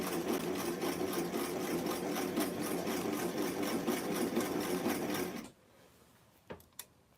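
A sewing machine runs a gathering stitch on a tiny 1963 vintage Barbie doll square-dancing outfit, buzzing continuously and loudly for over five seconds before cutting off, followed by a few faint clicks.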